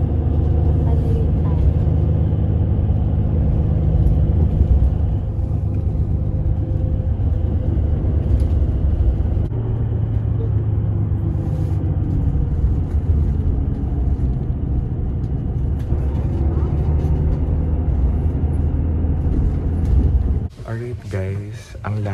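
A late-night airport bus from Incheon to Seoul rumbles steadily with a deep, constant engine drone and road noise that fills the cabin throughout. A clattering disturbance comes near the end.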